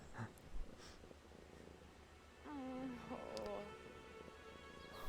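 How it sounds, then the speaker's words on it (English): A cat in the video game Brothers: A Tale of Two Sons purrs softly while being petted, a faint low rumble heard under game sounds. "I can pet the kitty."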